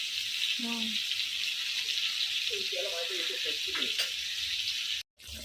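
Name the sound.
fish pieces frying in a pan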